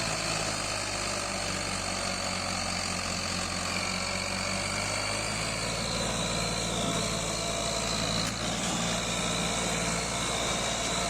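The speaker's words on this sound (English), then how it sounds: "This driver's working hard, but the tractor is definitely working harder." A Ford 3610 tractor straining to pull a heavy load, its engine droning loud and constant with a steady low rumble and a harsh high mechanical whine, with no talk over it.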